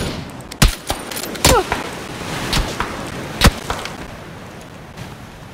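Gunfire in the PUBG Battlegrounds video game: a handful of sharp, separate shots cracking out at irregular moments over a low, busy background.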